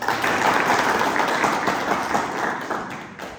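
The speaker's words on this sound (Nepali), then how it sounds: "मेरो तर्फबाट पनि ताली बजाएर स्वागत" An audience gives steady, dense applause to welcome trainers at a program. The clapping stays loud throughout and tapers off slightly at the end.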